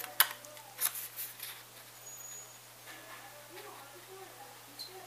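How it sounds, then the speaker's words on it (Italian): Scissors make a couple of short snipping cuts in paper while a box is folded for a scrapbooking craft, with crisp transients near the start and fainter snips afterward under light talk in a quiet room. "prendiamo le forbici e facciamo due taglietti"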